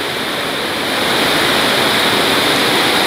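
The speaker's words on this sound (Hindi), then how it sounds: "सुंदर वॉटरफॉल है यहाँ पर" Waterfall on the Bhimgad trek pours in a steady, loud, broadband rush of falling water, continuous and close throughout with no voices.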